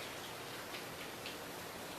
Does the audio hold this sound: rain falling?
yes